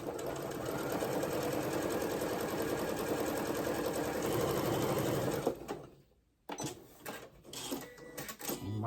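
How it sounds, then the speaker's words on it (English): A sewing machine stitches down a star potholder in a fast, steady whirring run for about five seconds, then stops abruptly, followed by a few fabric handling clicks and rustles. "And sew that down."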